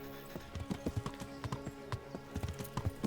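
Horse hooves from the video game Kingdom Come: Deliverance clop in a quick, steady rhythm, fairly close and moderately loud.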